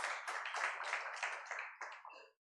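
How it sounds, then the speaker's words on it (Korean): A congregation at a Sunday church service applauds in a brief burst of dense clapping that holds steady, then thins and stops abruptly. "우리 하나님께 영광의 박수 올려드리겠습니다"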